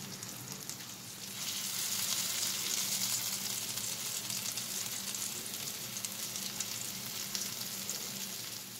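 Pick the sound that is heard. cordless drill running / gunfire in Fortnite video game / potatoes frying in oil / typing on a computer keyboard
potatoes frying in oil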